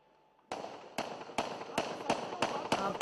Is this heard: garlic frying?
no